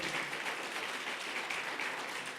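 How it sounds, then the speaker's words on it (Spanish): Applause from a church congregation rises as a steady, distant wash of clapping, even and continuous for a couple of seconds. "Denle un aplauso grande a Él"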